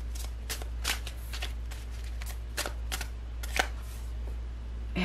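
Tarot cards being shuffled, a series of crisp riffling and flicking bursts at irregular intervals over a low steady hum, close and moderately quiet.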